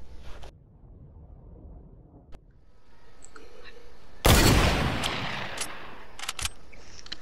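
Sniper rifle fire in a first-person shooter game: one sharp, loud shot bursts in about two-thirds through and rings out, with a couple of brief cracks following, over a low steady game ambience.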